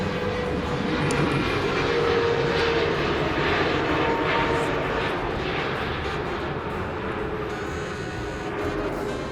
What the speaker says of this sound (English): Of course, another plane just went over.